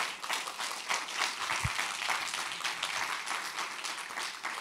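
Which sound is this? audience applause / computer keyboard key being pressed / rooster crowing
audience applause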